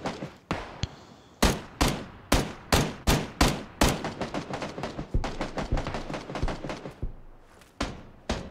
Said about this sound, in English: We're getting sniped.